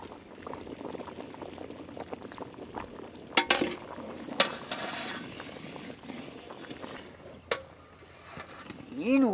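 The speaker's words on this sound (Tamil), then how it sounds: "மீன் உடையாம மெதுவாக கிண்டணுமுக்கா." Sea catfish curry, village-style boiled aviyal, stirred gently in a pot, giving soft scraping and liquid bubbling with a few sharper clinks, close and steady over low kitchen background.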